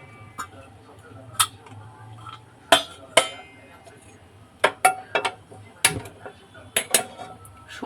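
A metal wok (kadai) goes onto a gas stove with scattered sharp clinks and clanks of metal on metal, irregular and close, over a faint steady low hum.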